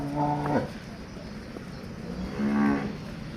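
A heifer lows twice, a short moo at the start and a longer one near the end, fairly close with quiet background between.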